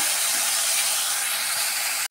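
Nigella seeds hiss and crackle in hot oil left from frying a small hilsa fish, a loud, steady close sizzle that cuts off abruptly at the end.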